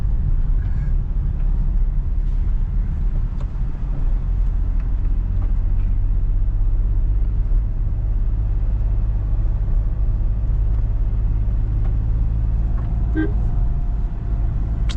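A 2026 Maruti Swift LXI with a 1.2L three-cylinder Z12E engine under way, a steady low engine drone and road rumble heard from inside the cabin, continuous throughout with faint background noises.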